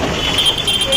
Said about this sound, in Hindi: देखिए कितना ट्रैफिक है,